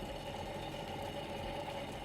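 A Sea-Doo watercraft engine idles steadily at low volume while its exhaust system is flushed with water, a constant even drone with no voices.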